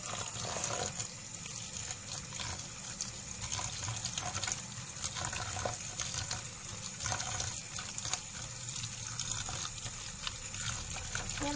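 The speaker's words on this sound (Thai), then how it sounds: "เดี๋ยวเราจะมาล้างเห็ดนะคะ อีกครั้งหนึ่งเพื่อเอาเมือกออกนะคะให้หมด" Oyster mushrooms are rinsed under a running tap to wash off slime, a steady close splashing and trickling of water into a sink, continuous and even throughout, with no talking.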